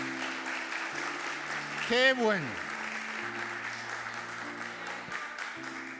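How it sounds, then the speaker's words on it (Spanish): A church congregation applauds at a Sunday service, a steady wash of clapping under a voice and sustained music, with a brief swell near the middle. "Hágalo más fuerte, aplauda bien fuerte"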